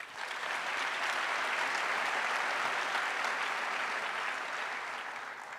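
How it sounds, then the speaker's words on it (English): An awards-night audience gives a round of applause for the winners and nominees, a dense, even wash of clapping that holds steady throughout before easing slightly at the end. "Can we give them a round of applause?"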